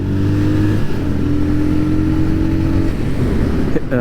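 A Royal Enfield Scram 411 motorcycle accelerates on a back road, its engine loud and close with a steady droning note that rises in pitch as it revs, and a brief change near the end.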